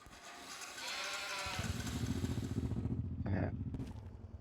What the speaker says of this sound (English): and then that is our sheep